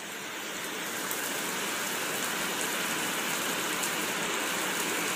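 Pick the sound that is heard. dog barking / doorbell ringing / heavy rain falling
heavy rain falling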